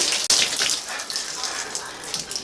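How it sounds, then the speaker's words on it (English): Water gushing steadily from a shower head during a shower surround installation, a loud close hiss with a sharp knock near the start and faint talk underneath. "The shower part appears to be on, so it was all coming out of this shower part."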